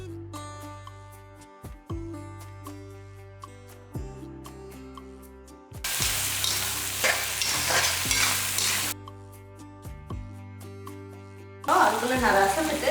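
Chopped tomato is fried and stirred with onions in a pan for mutton sukka, giving bursts of loud sizzling and scraping stirs that alternate with stretches where background music dominates.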